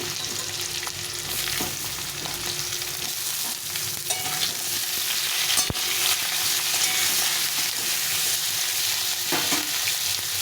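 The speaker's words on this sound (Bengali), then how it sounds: "আলুগুলো ভাজা হয়ে গেছে, কাঁচকলাগুলো সেটা ভেজে নেব" Green banana slices fry in hot oil, a dense continuous sizzle with occasional scraping stirs of a spatula against the pan, close and steady throughout.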